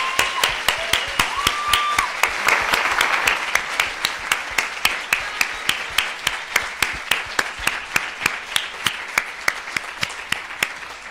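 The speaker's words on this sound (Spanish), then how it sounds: "Vamos a despedirlo con un aplauso" Audience at an academic lecture on the humanities and environmental degradation claps to bid the speaker farewell. The applause is dense at first, then thins to steady, evenly spaced claps that continue for about eleven seconds, with no voices over it.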